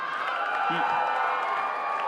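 An audience gives a round of applause and cheers in a small live venue, a steady dense wash of clapping and voices that holds level throughout.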